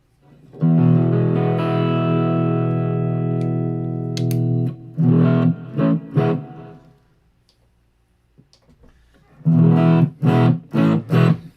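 An electric guitar played dry through the neck pickup plays a long sustained chord, then short rhythmic strummed bursts, a quiet pause, and another group of choppy chords, close and clear.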